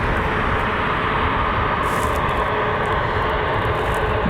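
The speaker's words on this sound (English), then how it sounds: "Southwest, it's a MAX 8 that'll be heading to Phoenix," A Southwest Boeing 737 MAX 8 jet airliner at Cleveland Hopkins International roars loudly and steadily nearby, its engine noise sustained and even throughout, with no talking.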